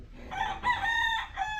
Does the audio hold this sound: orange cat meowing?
no